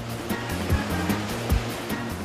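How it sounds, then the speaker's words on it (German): An artificial surf wave machine at a Dubai hotel pushes a 7 cm sheet of water, 1500 litres per second, across its surface: a loud, continuous rushing roar with rhythmic low surges. "Eine 7 cm dicke Wasserschicht, 1500 Liter pro Sekunde, strömt über diese Oberfläche"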